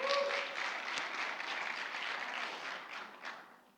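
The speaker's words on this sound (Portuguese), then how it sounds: "me dê uma salva de palmas para a Fernanda." An audience applauds together, a soft, fairly distant wash of clapping that holds steady and then fades out over a few seconds.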